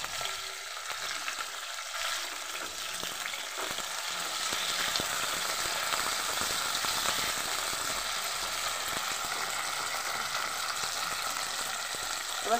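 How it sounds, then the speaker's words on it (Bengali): Halved flat beans (shim) fry in hot oil with a constant bright, hissing sizzle that grows slightly fuller midway and holds steady for the whole stretch, with no talking. "এবার শিমগুলোকে আমি ভাজতে ভাজতে আপনাদের দেখিয়ে দিই"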